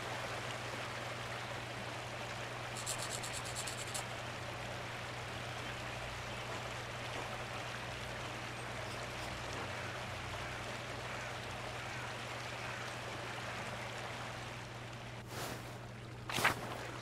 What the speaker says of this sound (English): The waterfall must flow down from the snow melt in the mountains above the abbey.